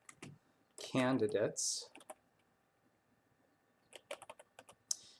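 Someone types a short word on a computer keyboard in a quiet room, giving a few soft, scattered key clicks after a brief bit of speech.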